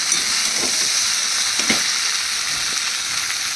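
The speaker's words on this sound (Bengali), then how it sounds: "আমি এবার এর মধ্যে দিয়ে দেবো জল" Water goes into sizzling spice paste for a vegetarian jackfruit curry, a steady close frying hiss with faint stirring clicks throughout, loud and without any talk.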